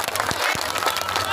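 A crowd at a Bhubaneswar Bali Jatra comedy show applauds in a short burst of dense, steady clapping, fairly loud and close, with some crowd murmur mixed in.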